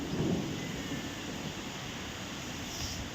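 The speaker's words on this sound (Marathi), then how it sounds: "सकाळपासूनच पाऊस सुरू झालाय" Steady rain and wind wash through the whole stretch with a low rumble of thunder at the start, fairly faint and continuous, with no voices.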